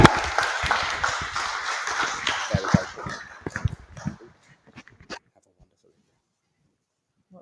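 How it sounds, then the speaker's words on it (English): An audience claps in a dense burst of applause for Tracy Bidwell that thins into a few scattered claps and dies away to near silence. "give her a big Littleport round of applause"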